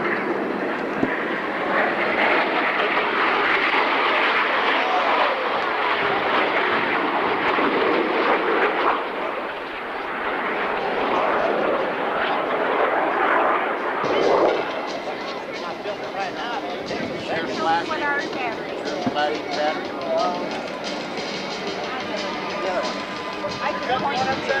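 Aerobatic airplanes perform at the 1992 California International Airshow in Salinas, a continuous broad engine roar rising and easing while an announcer talks steadily over the noise.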